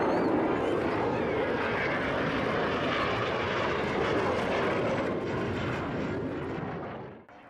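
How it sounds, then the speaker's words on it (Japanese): Blue Impulse jet aircraft of the JASDF display team pulling into a steep climb after a very low-level takeoff at an air show, producing a loud, continuous, broadband engine roar that holds steady before dropping away at the end. "身を隠すように超低空飛行で加速し、規定の速度に達すると一気に急上昇します。"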